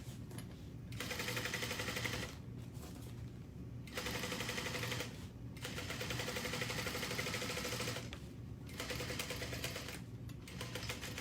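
Sewing machine stitching a bag strap at a long stitch length, running in several continuous bursts separated by short pauses, fairly faint.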